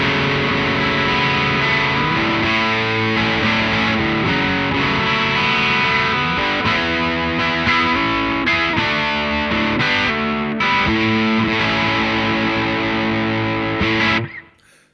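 Electric guitar played through a Fulltone GT500 distortion pedal set near full gain, sustained thick overdriven chords and riffs ringing continuously and loud for about fourteen seconds before cutting off.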